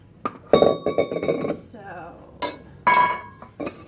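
Kitchenware clinks and clatters in several sharp knocks as a mixing bowl is handled while cauliflower is prepared for rolls, close by with scattered brief bumps between.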